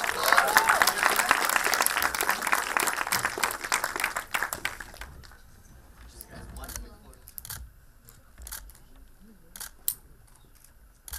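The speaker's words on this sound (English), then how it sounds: "let's give them a huge round of applause" Dense applause from an audience at a film press conference, loud and continuous for about five seconds, then thinning into scattered claps and camera clicks with faint background noise.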